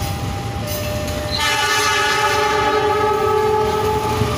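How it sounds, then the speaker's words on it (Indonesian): A red and white train passes Cikarang station, its loud rolling rumble joined by a sustained horn blast that begins partway through and holds steady, close to the listener. "Kereta merah putih."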